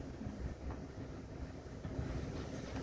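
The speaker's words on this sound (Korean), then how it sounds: "구독자 여러분 기차 출발해" A KTX high-speed train pulls out of a station with a low, steady rumble and broadband rolling noise, fairly faint and continuous with no voices.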